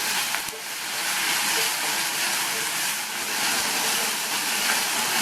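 Tomatoes sauté in a hot pan for a roadside-style green peas masala, giving off a loud, continuous sizzling hiss that stays even throughout.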